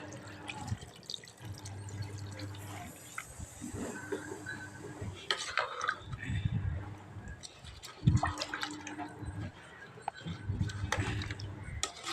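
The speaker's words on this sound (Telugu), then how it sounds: "కూర ఉడకడానికి కొన్ని నీళ్ళు అయితే తీసుకో పోసుకోవాలి" Water is poured into curry cooking in a home kitchen, heard as intermittent moderate splashes and trickles with drips between them, over a low background hum.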